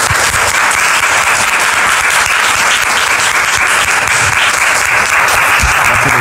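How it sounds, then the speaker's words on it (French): A television studio audience gives a loud, continuous burst of clapping that holds at full strength the whole time, with no voices heard over it. "Je voudrais que nous la recevions avec applaudissements."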